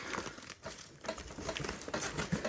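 Cut packaging holding knockoff ARB parts is pulled open, giving quiet, continuous crinkling and crumpling of plastic close to the microphone.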